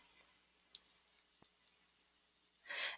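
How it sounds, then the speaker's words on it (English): A computer mouse clicks the Run button, a faint, sharp tick standing out from several soft clicks and a quiet room background, followed by a brief breathy rustle. "So now I'm going to click Run, which is here on the Batch tab."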